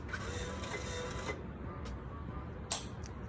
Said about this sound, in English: So that noise that you hear is just like the bill receptor kind of, getting ready to start.